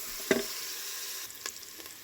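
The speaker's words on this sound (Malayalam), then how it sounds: "സവാളയും വെളുത്തുള്ളിയും വാട്ടിക്കൊണ്ടിരിക്കണേ." Onion and garlic sauté in a pan set on the stove for squid curry, giving a soft, steady sizzle with one sharp stirring scrape near the start and fainter stirs later, fairly quiet.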